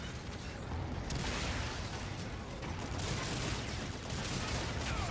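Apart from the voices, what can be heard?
electric gun firing in Infinite Warfare, video game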